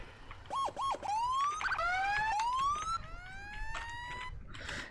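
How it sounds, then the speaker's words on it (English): A fire-engine-style emergency vehicle siren in the Into The Flames firefighting game gives a few quick yelps and then rising wails, moderately loud over a low engine rumble, before cutting off. "We're actually going to go without the siren here, just because it's loud."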